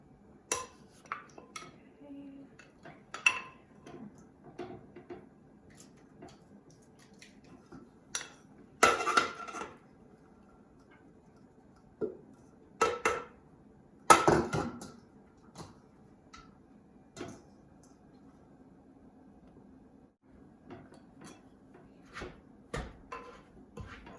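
Som tam papaya salad with crab and fermented fish being pounded, heard as scattered sharp knocks and clinks of mortar and utensils, irregular and fairly close, separated by quiet gaps.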